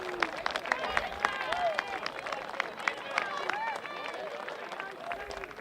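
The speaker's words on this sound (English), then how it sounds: "A warm round of applause." A crowd applauds at a national men's senior hockey final between Canterbury and Waikato, steady clapping from many spectators with sharp individual claps, some whistles and cheers, lasting throughout, heard from a distance.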